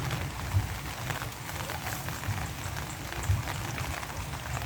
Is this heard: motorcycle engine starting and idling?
no